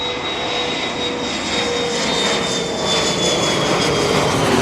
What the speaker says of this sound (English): We're watching airplanes.